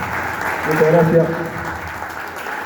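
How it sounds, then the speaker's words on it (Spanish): A political assembly audience claps in a short, moderate burst while someone speaks briefly over it near the microphone. "fuerte aplauso"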